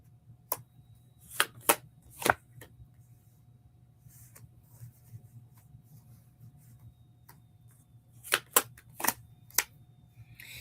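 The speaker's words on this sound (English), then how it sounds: "It kept showing up while I was shuffling here." Two bursts of tarot cards being shuffled, crisp riffling clatters clustered near the start and again near the end, with quiet gaps between and no talking.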